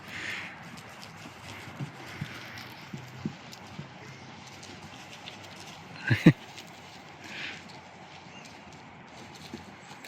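Two horses playing, hooves thudding and clopping irregularly on the ground at a moderate distance, with a louder pair of impacts midway over a low outdoor rumble.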